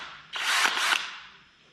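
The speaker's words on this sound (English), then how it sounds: "It's like it just completely resuscitated this drill." A DeWalt cordless drill running on a Milwaukee M18 lithium-ion battery, a loud whirring burst of about two-thirds of a second with a slight pitch shift in the middle, then a fading spin-down.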